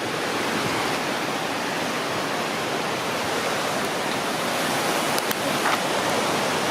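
Broadband, steady rushing roar of Sweden's highest waterfall, continuous and loud without letup, with a couple of faint brief ticks near the end and no voices.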